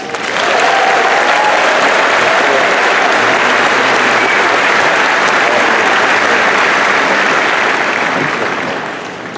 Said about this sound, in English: Lions, please join me in a round of applause of heartfelt thanks